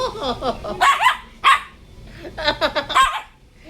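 Pet dogs bark and yip up close in short, sharp bursts, clustered near the start and again toward the end, with whiny, excited tones between the barks.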